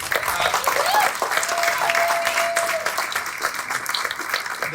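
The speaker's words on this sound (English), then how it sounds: "Big round of applause, please." Audience at a community awards ceremony gives a round of applause, steady many-handed clapping filling the room, with a brief whistle-like tone and faint voices beneath, easing slightly toward the end.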